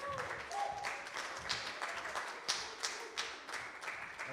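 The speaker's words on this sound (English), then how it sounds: "Let's give them another round of applause." A church congregation gives the band a round of applause, scattered and fairly quiet, with a few louder individual claps standing out and a voice briefly heard.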